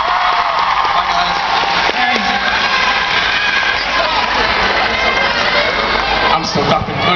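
A loud, steady wash of crowd clapping, cheering and whoops from a convention audience as panellists leave the stage, continuous and dense for the whole stretch.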